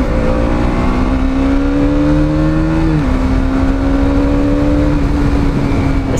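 KTM Duke 200 motorcycle engine accelerating hard, a loud close buzzing whine climbing in pitch, dropping briefly at a gear change, then pulling steadily again under strong wind rush.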